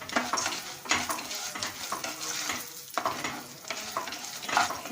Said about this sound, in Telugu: అలాగే ఇందులోకి పల్లీలు వేసేస్తున్నాను.